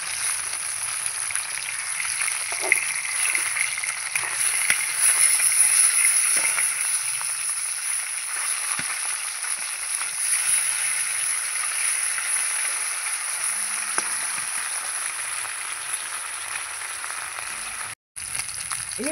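Bhola fish fry in oil in a karahi with a continuous close sizzle, broken by scattered scrapes and soft knocks as the pieces are turned, plus one brief dropout near the end.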